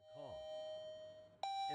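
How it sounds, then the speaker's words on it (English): A chime bell wired to an Akuvox indoor monitor rings for an incoming call, a soft tonal chime followed by a brighter strike that rings on, quiet and close. "The bell will now ring when the indoor monitor receives a call."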